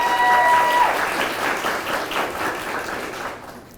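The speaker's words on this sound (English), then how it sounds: "Please give a round of applause for our Bridgeton High School principal, Michael Eckmeyer." Audience applause at a JROTC military ball, a dense burst of many hands clapping that starts loud and slowly thins out before stopping near the end.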